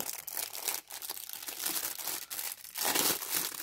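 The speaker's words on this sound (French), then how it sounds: "Avec les diamants on a un toolkit. Je vais l'ouvrir avec vous." Plastic packaging of a diamond painting toolkit being opened, close crinkling and crackling in uneven bursts, fairly quiet with no voices.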